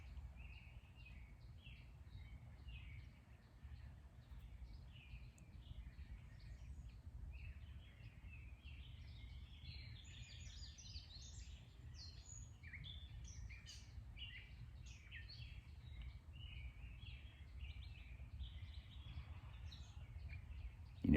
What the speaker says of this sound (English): listen for a minute and see if you can hear the birds